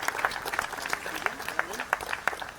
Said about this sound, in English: let's give another big round of applause for your Mayor of Eagle Pass